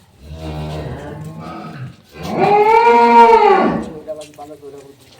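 A dairy cow moos nearby: a short low call, then a louder, longer drawn-out moo that fades into a softer tail.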